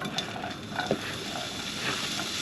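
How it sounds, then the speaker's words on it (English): Onions and peppers sauté in a little olive oil, a steady soft sizzle with light stirring scrapes and occasional faint clinks, close and fairly quiet. "We're going to saute our onions and peppers in there."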